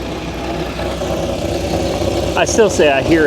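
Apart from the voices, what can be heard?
Dodge Viper engine idling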